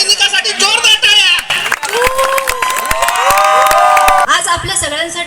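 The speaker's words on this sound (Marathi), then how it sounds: "त्या सैनिकासाठी जोरदार टाळ्या" A large crowd at a college event claps and cheers for soldiers, loud and close, with whoops and shouts rising over sustained applause.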